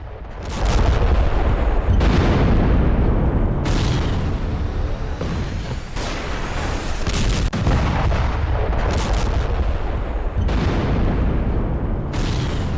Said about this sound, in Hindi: आईडीएफ ने विस्फोटकों की मदद से पूरी टनल को कैसे उड़ाया देखिए